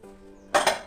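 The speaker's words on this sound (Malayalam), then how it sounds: "ഈ കുക്കർ അടച്ചേക്കാൻ പോവുകയാണ്." A metal pressure cooker lid is set and closed on the pot while coconut rice is being cooked, giving two quick, close metallic clanks after a quiet, humming moment.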